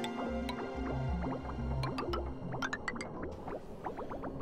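Dirty water drips and gurgles through pipes in the video game Oxygen Not Included, a busy stream of wet plops and bubbling drips over a low repeating hum, steady and moderately quiet.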